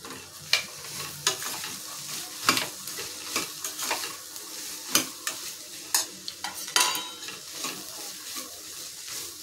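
Spicy chickpeas tossed with salt in a frying pan: a continuous sizzle punctuated by irregular scraping and tapping stirs of the spatula, close and fairly loud, with no talking.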